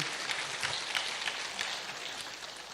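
An audience at a church talk claps for visitors from Jeju, a faint, steady patter of many hands heard from a distance and continuing throughout.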